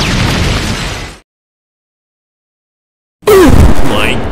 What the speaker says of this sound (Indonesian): menembak granat dan meledak memporak-porandakan tempat tersebut